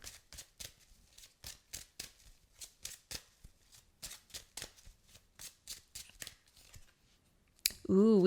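Tarot cards being shuffled by hand, a run of quick, crisp riffling snaps in a regular rhythm, close and fairly quiet, ending with a brief voice.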